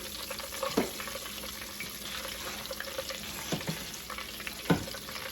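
Quail pieces frying in a pan give a steady, close sizzle with a few brief stirring clatters and occasional louder pops over the continuous hiss.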